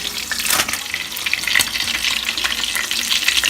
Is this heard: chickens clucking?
no